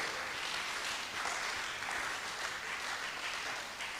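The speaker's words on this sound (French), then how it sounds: "est-ce qu'on peut acclamer?" A church congregation applauding during a Sunday service, steady dense clapping that fills the room from start to finish with no voices standing out.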